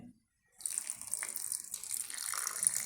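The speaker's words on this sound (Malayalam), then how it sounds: "ഇതിലേക്ക് നമുക്ക് ഒരല്പം വെള്ളം ഒഴിക്കാം അരയ്ക്കാനായിട്ട്." Water is poured from a vessel into a mixer grinder jar holding roasted spices for grinding, a short hiss and splash after a brief silence, close and moderately loud.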